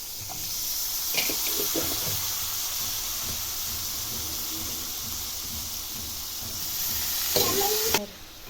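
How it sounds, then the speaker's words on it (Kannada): Beetroot palya frying in oil in a pan gives a steady soft sizzle and hiss, with a few clinks of stirring near the start and end. "ಈಗ ಚೆನ್ನಾಗಿ ಎಣ್ಣೆ ಫ್ರೈ ಮಾಡ್ಕೋಬೇಕು"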